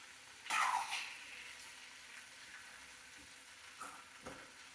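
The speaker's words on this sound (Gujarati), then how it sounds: "હવે છે ને આપણે બધા ભીંડાને પલટાવી લઈશું" Stuffed okra sizzles in a pan as it is turned over, a brief louder burst of frying at the start that settles into a steady soft crackle with a few light clinks.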